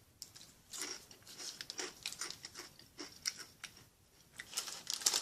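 Homemade keto low-carb crackers bitten and chewed up close, with a rapid run of crisp, dry crunches through the whole stretch and no talk.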